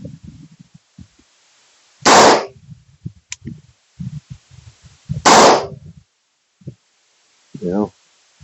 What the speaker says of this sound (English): we'll give it 2 more rounds here on the 45 Colt